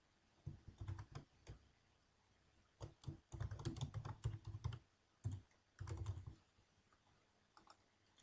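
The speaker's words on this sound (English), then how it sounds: "typing in the name of the machine" Typing on a computer keyboard in a quiet room: bursts of close, crisp key clicks come in irregular clusters with short pauses between them, and no one speaks.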